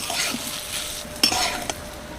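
Gobindobhog rice and grated coconut fry in a pan while a spoon stirs and scrapes them. A soft sizzle runs underneath, with a few sharp metallic clinks of the spoon against the pan.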